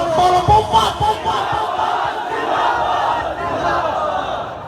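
A large crowd at a religious rally roars a Khatm-e-Nabuwwat slogan in unison, a loud, dense mass of voices that rises and falls in waves and fills the whole stretch.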